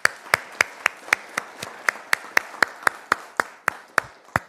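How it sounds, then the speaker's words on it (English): Audience applause for newly sworn-in police officers at a ceremony, about sixteen sharp, evenly spaced claps ringing out close and clear over a faint room hum, with no talking. "Let's give you a round of applause."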